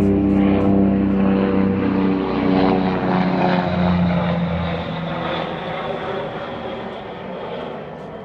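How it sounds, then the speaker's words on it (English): Helicopter sound effect from a Crazy Climber arcade machine, a loud, steady droning rotor-like whir that fills the clip without a break and eases off slightly toward the end. "Listen to the helicopter."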